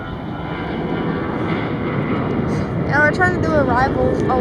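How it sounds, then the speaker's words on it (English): An American Airlines Airbus A321 airliner passes with a steady broadband engine roar that swells slightly toward the end, heard up close at a Charlotte airport spotting location alongside some rising tonal whine. "American Airlines A321."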